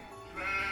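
Sheep bleating in a single short, nasal call that swells louder in its second half, heard close and alone with no talking.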